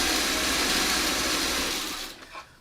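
A sewing machine runs steadily and close for about two seconds while stitching quilt pieces, a dense continuous whir that stops abruptly, followed by a brief soft handling noise.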